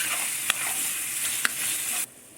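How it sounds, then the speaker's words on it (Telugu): Onions and ginger fry in oil in a pan for Andhra-style prawn fry, a bright close sizzle with two quick stirring scrapes before the sizzle abruptly drops away. "అల్లం కూడా పచ్చివాసన పోయేంత వరకు బాగా ఫ్రై చేసుకోవాలి"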